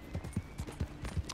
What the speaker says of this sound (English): Here comes my other horse.